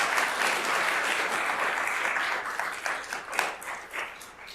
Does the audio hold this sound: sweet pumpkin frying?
no